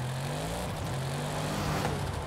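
An Audi RS7 in Forza Horizon 5 drives along with a quiet, steady engine tone whose pitch rises slightly, heard alone and fairly faint.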